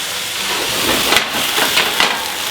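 Cognac hits a hot pan of duck, potatoes and garlic and sizzles into a loud, continuous hiss with a few sharper bursts, close up.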